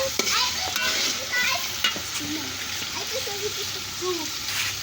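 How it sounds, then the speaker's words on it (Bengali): Bay leaves, cardamom and cloves drop into hot oil in a frying pot for picnic biryani, bringing a steady close sizzle with stirring scrapes and brief clatters throughout, while people talk faintly in the background. "এখন দেওয়া হইতাছে তেজপাতা, এলাচি এবং কি লং।"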